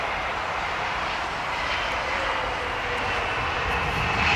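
A United airliner on approach to London Heathrow gives a steady broad jet roar that swells slightly as it nears, loud and continuous with no voices.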